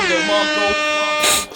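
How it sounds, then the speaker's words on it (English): Air horn sound effect blasting loudly and continuously for over a second, a brassy multi-tone honk that ends abruptly, played during an indoor football game broadcast. "That's why I gotta do the air horn"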